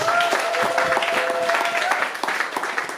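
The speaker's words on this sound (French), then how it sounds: "Applaudissez pour Jésus-Christ." A crowd at a Christian church service claps steadily in dense applause throughout, with a few voices and a sustained tone carrying faintly underneath.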